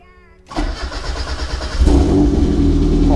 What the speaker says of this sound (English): So let's just make sure the car turns on.